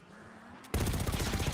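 Rapid machine-gun fire in a video game begins abruptly after a quiet stretch, a dense loud burst of rattling shots that continues steadily to the end.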